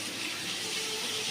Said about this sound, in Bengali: সেই আদা রসুন ধোয়া যে জলটা আমি রেখে দিয়েছিলাম সেই জলটা আমি এর মধ্যে অ্যাড করে দিচ্ছি